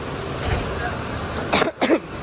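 Two quick, harsh coughs close to the microphone near the end, following a stretch of muffled background noise at a bus terminal ticket counter.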